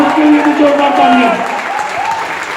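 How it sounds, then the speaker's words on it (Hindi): Seminar audience applauding loudly as a crowd, with a speaker's voice and tonal music running over the clapping, which eases slightly in the second half. "उसके लिए भी जोरदार तालियां"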